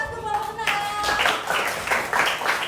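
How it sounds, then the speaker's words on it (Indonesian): Classroom applause for a presenting student group, steady clapping from several people starting after a brief pause, with voices audible underneath. "Beri aplaus untuk kelompok"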